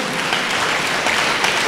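A congregation at a revival service claps together in a brief, dense burst of applause, many hands close and loud, steady for the whole moment without voices.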